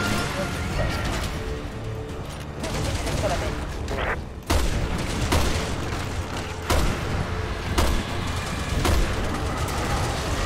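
Gunfire in the Resident Evil 6 video game, with repeated sharp shots and booms against a dense, loud game soundtrack, close and continuous.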